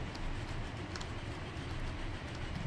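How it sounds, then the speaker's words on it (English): A train runs steadily in the Transport Fever simulation game, a continuous loud rumbling roar with a faint rhythmic clatter of wheels, heard alone without talk. "And all we have to do now is add in that other train."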